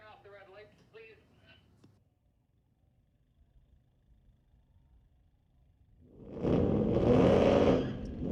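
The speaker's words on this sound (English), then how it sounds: "Blue Oval, taking on a bow tie. 2017 Camaro and a newer Mustang." A 2017 Chevrolet Camaro and a newer Ford Mustang launch in a street-legal drag race at a raceway, a loud roaring surge of engines building suddenly after a quiet stretch with brief talk at the start.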